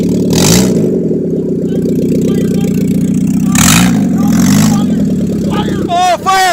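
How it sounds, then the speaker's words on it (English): A car with a welded diff doing a burnout, engine held at a loud, steady roaring rev with rising and falling surges and tire noise, while people shout excitedly over it. "That's how you do a burnout in Canada, folks."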